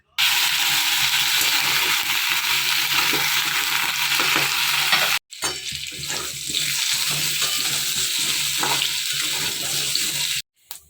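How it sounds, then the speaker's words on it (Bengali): Potatoes frying in a pan give a steady, loud sizzle with stirring scrapes, broken by a brief pause midway, then continuing; no one speaks. "তো এবার আমি আলুগুলো ভেজে নেব।"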